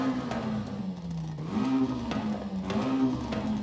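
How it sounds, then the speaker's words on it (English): A car engine fitted with a race exhaust revs up and settles again several times, a close, lower-toned drone that rises and dips in short swells, with no voices. "Actually doesn't sound too bad with the race exhaust."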